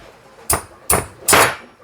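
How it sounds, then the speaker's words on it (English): Hammer striking a part of a Brunswick A/A2 bowling pinsetter during a 4:1 assembly repair, three sharp metallic blows at an irregular pace, close and loud, the last ringing slightly longer. "Hit it with a hammer."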